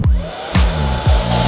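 A Dyson-lookalike hair dryer with three airflow settings blows a loud, steady rush of air up close. The tone holds level, with a few brief bumps in the whoosh as it runs.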